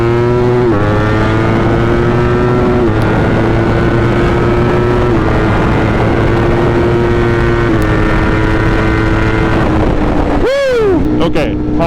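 A 200 hp Subaru engine accelerates hard on a highway, a loud, sustained roar whose pitch climbs through several gear shifts inside the car.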